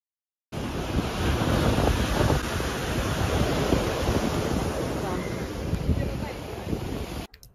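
Waves at Alleppey beach in Kerala: a steady roar of surf washing in, heavily buffeted by wind rumbling across the microphone, loud and continuous throughout, with no clear voices.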